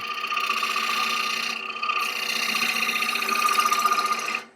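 A bowl gouge cuts a wooden bowl turning on a lathe, a steady buzzing, rasping hum that holds for several seconds, dips briefly, then cuts off abruptly at the end.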